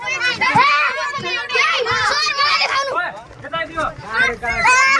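A group of children hoots and cheers together at an outdoor dance-school picnic in Nepal, loud overlapping young voices rising in repeated bursts close by.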